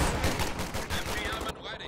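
MG42 machine gun fire in the World War II strategy game Company of Heroes 2, a brief burst of rapid rattling shots, fairly loud, that cuts off near the end.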